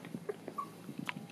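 Puppies give several short, soft whimpers and squeaks in scattered bursts, close up in a quiet room with no talking.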